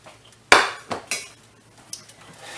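A pan of hot oil lifted off a stove burner, a loud metallic clank followed by a few softer knocks and clinks, close by and with no talking.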